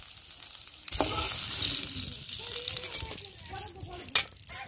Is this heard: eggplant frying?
yes